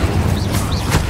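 Incendio fire spell blasts cast in the Hogwarts Legacy video game, a series of dense, steady whooshing bursts with swept tones, loud and continuous throughout.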